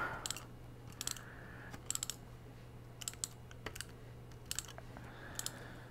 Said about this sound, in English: this is kind of a big tape runner